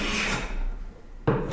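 A rasping, scraping stroke of a hand plane across the rough side of wood with a faint stuttering chatter, followed by a sharper, louder scrape near the end.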